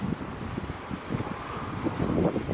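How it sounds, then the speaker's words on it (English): Outdoor wind buffeting a microphone, a steady low rumbling roar with gusty swells that builds toward the end, with no voices over it. "Hold on, the wind."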